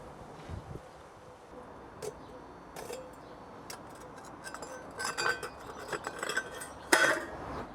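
Metal fire grate set into a homemade aluminium furnace, with scattered clinks and scrapes of metal, fairly faint and close, growing busier toward the end.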